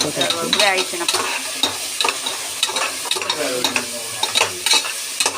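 Ginger sautéing with onion in a hot pan, a spatula stirring steadily with repeated clattering scrapes against the pan over a continuous sizzle, close and fairly loud, with no talking.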